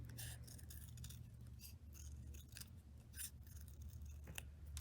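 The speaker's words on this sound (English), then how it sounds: "you're going to cut it into a circle" Scissors snip through scrap paper, cutting it into a circle for a Remembrance Day kids' craft, with quiet, irregular crisp cuts over a low steady background hum.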